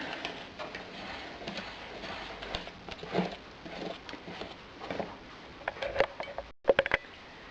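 Cake batter is stirred steadily in a bowl, a continuous soft swishing and scraping, with a few light clinks of the utensil near the end.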